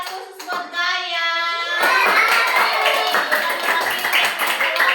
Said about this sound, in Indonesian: Ya, tepuk tangan secara khusus buat Gaya.